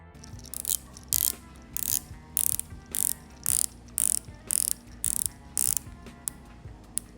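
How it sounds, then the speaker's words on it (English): A diver watch bezel is turned by hand, giving about ten crisp ratcheting click bursts in a steady rhythm, close and clear against a quiet background. "that bezel that just wins your day as you work with it and listen to its sound"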